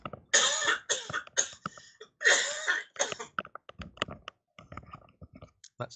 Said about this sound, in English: That's a disturbingly dry cough.